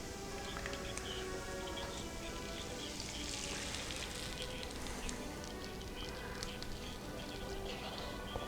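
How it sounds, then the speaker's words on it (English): Bacon and butter heating in a pan while freeze-dried eggs are rehydrated, giving a steady, soft crackling sizzle that runs throughout with faint background noise. "Get some bacon and butter heating in there."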